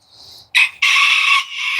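A boss rooster crows close by, loud and clear: a short opening note, a brief gap, then a long held call that trails off at the end.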